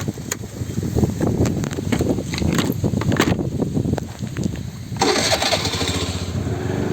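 A vehicle engine revving and running loudly as it drives into a coconut grove, with a steady motor drone that rises and falls, followed by a brighter rushing noise near the end.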